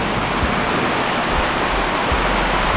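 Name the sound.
driving rain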